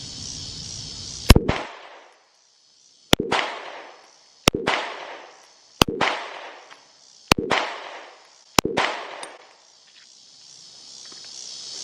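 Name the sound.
gunshots from Smith & Wesson Shield pistol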